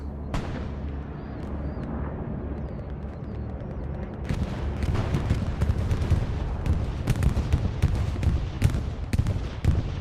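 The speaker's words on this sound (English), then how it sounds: "Bombing run is coming down." A bombing run and artillery barrage pound Kharkov in Hell Let Loose, a dense, continuous roll of heavy explosions and sharp blasts that grows busier and harsher partway through, loud and sustained with no pause.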